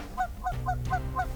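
Geese honk repeatedly during a Saskatchewan duck and goose hunt, five close, loud calls coming in a steady rhythm over a low rumble of wind or background noise.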